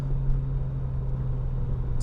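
An Alfa Romeo GTV6 with its Busso V6 engine pulls hard under acceleration, a steady, loud low drone filling the whole stretch with no voices.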